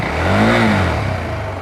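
KTM adventure motorcycle exhaust, either the 790 or 390 ADV, giving a single short rev that swells and falls back toward idle, close and fairly loud, with no speech.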